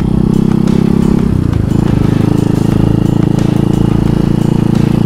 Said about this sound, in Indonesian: Ternyata pakai motor klasik di tengah kota